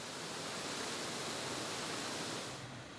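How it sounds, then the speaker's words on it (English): Treated effluent water pours steadily through a measuring weir at a tertiary treatment plant on its way to the ocean, a continuous broadband rush that holds even and loud throughout, easing slightly at the very end. "The effluent end of the CCC incorporates a weir that the flow must go through that measures the volume of water on its way to the ocean."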